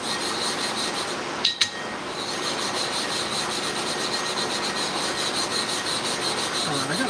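Abrasive coat being spread across a clipper blade sharpening plate, a close, continuous gritty rubbing with a rhythmic circular texture and a couple of brief knocks.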